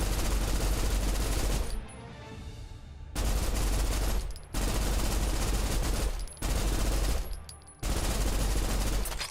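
Rapid automatic gunfire from shooting enemies in the video game Snowbreak, loud and sustained in long bursts with a few short pauses between volleys, no talking.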